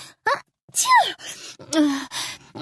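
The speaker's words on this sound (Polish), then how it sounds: "Jakby na potwierdzenie tych słów zaczęła kichać i sięgnęła po chusteczki, żeby oczyścić nos." A woman with a cold, voiced by a narrator, sneezes several times in a row. Sharp gasping intakes come before each burst, close and alone.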